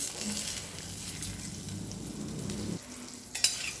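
Boiled onion pieces sautéing in a pan on a gas stove, a soft steady sizzle and stirring that stops shortly before a brief clink near the end.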